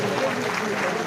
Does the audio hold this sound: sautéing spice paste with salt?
no